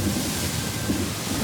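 Heavy rain pours steadily on a remote island with deep thunder rumbling underneath, a dense, loud, continuous wash of noise with no voices.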